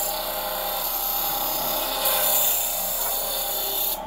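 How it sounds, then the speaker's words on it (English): Mastercraft 6-inch variable speed bench grinder running steadily while grinding a piece of wood, a continuous high whine with a raspy scraping layer that rises briefly midway, close and loud. "Again, this is a small bench grinder."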